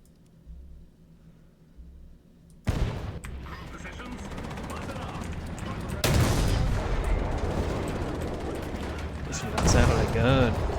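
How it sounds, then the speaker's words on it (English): Gunfire in the War Thunder video game arrives as loud, dense bursts of shots and rumbling tank-battle noise after a quiet start, with a sharp jump in intensity partway through and someone talking over it. "That sound of a gun."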